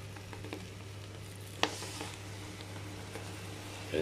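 Bopis sizzles steadily in a hot pan, with a sharp pop near the middle and a few softer crackles over a constant low hum; no one speaks.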